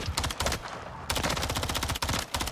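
Automatic gunfire in Modern Warfare III, dense rapid bursts of shots in quick succession with a brief pause before resuming, loud and close.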